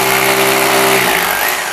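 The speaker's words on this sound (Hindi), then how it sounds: "ये देखें ड्रिल मशीन से जो है" A drill machine bores into a wall while a washroom cabinet is being installed, giving a loud, steady whirring whine held close to the microphone before it winds down near the end.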